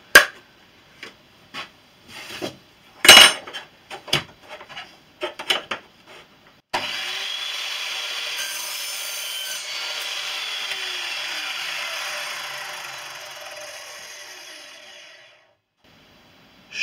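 An Evolution R210 CMS mitre saw cuts through copper pipe: a few sharp clicks and knocks, then the motor whines up loud, runs steadily through the cut for several seconds, and winds down to silence.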